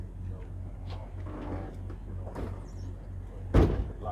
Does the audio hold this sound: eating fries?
no